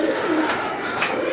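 Caged pigeons kept by a pigeon fancier coo softly and steadily, a low continuous murmur of several birds close by with no talk.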